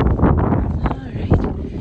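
Strong, cold winter wind buffets the microphone around an outdoor barn and horse area, a steady rough roar with gusty swells and a couple of brief knocks, partly masking faint background voices.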